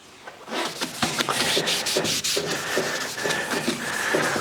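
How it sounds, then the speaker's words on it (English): Machine wax is rubbed by hand onto a cast iron tool top in a workshop, giving a steady run of close, scratchy rubbing strokes with brief taps and pauses. "So we'll just treat this with a bit of machine wax."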